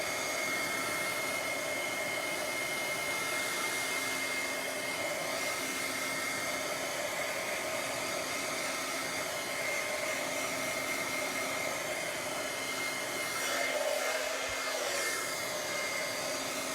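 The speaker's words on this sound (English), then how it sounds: "We're going to heat that with heat gun again," A heat gun blows steadily on watercolor paper to dry it, a loud continuous fan roar close by that runs unbroken for the whole stretch with no talking.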